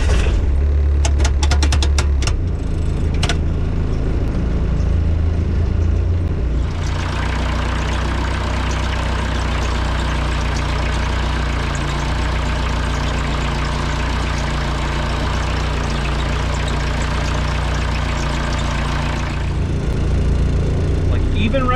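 A diesel-powered Jeep TJ Wrangler, transfer case and doubler set to high-range two-wheel drive, climbs a hill with a steady low engine drone that strains louder through the middle stretch before easing back, with a few sharp knocks at the start.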